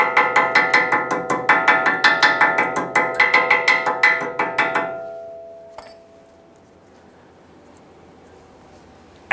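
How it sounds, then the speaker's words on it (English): Quick, evenly spaced metallic taps of a hammer on brake pad hardware on a Ford F-150 rear brake ring out in a fast series, then stop, leaving a fading ring and a quiet pause. "go ahead and give them a light tap with a hammer, gently driving them in"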